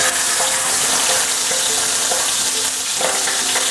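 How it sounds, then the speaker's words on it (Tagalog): Chicken liver sizzles loudly as it pan-fries in a hot pan, giving a close, steady crackling hiss with small pops scattered through it and no talking. "Susunod na natin dito yung chicken liver. Bali, papan fry lang natin siya."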